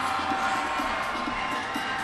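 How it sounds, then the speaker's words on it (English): An arena crowd at a judo Grand Prix in Zagreb roars steadily for a competitor, a dense, distant wash of cheering voices with no breaks. "the crowd absolutely rising to Matic"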